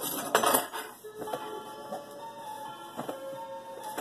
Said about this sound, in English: You get to hear my clock.